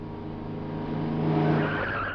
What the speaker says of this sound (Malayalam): എന്താണ് വണ്ടി നിർത്തിയേ?